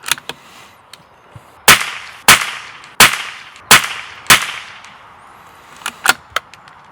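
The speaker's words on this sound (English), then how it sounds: "let's shoot 2 more groups" Rimfire rifle shots from a CZ457 VPT fired at 100 yards, several sharp, loud cracks spaced a second or so apart, each with a short ringing decay, then a few lighter clicks and taps near the end.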